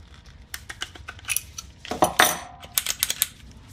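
Metal wrench picked up and handled while a Central Pneumatic 68027 palm nailer is reassembled: scattered close clinks and taps of steel on steel, with a brief scraping rattle midway and no talking.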